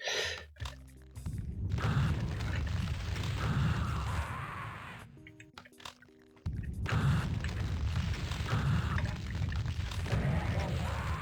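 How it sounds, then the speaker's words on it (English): Rocket explosion in the video game Doom, heavy booming blasts with rumbling debris that cut out briefly and then resume, loud and close. "here comes a rocket just to finish me off"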